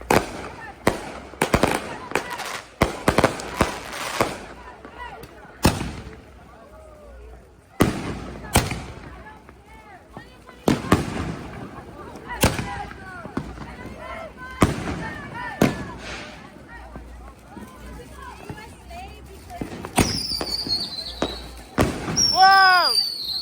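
Fireworks and firecrackers from a 2024 display pop and bang in a series of sharp, loud explosions spaced irregularly, some followed by crackling and whistling, while people talk and react between the blasts.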